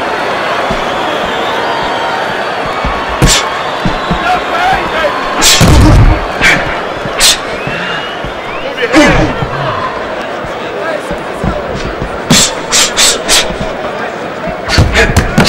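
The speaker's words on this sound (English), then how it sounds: "He comes back with a right hand." Punches land in the boxing video game Fight Night Round 4. Several heavy thuds and slams break through a constant crowd roar and commentary.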